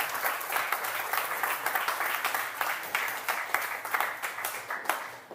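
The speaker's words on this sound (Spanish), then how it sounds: "Denle un aplauso, por favor." A church audience claps for a student, a dense round of applause that continues evenly for several seconds with no clear talk.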